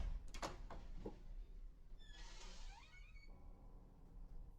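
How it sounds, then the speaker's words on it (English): A bedroom door slowly creaks open in a high, drawn-out glide after a few sharp knocks or thumps, heard alone over a low steady background rumble with no voices. "And then the door to their bedroom slowly creaked open."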